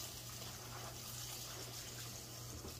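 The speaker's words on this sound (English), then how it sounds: "And so I'm just taking them, washing them well." Garden collard greens being washed under running water in a kitchen: a steady, close, continuous gush and splash of tap water with faint rustling, unbroken throughout and with no talking.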